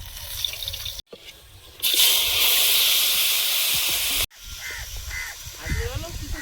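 Fish frying in hot oil in a home kitchen gives a loud, steady sizzling hiss that surges and holds for a few seconds, with cuts in between and someone talking over the quieter parts.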